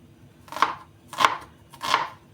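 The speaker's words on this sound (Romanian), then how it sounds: "Și acum tăiem." Three slow, distinct knife chops on a cutting board while preparing sauerkraut soup, evenly spaced and close by, with no voices.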